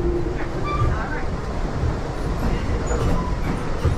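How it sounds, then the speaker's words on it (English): Inside a moving passenger train car on a western rail trip, a steady rumble and rattle of wheels and carriage fills the space, with muffled voices and chatter faintly mixed in. "It's weird, the feeling of walking through this train"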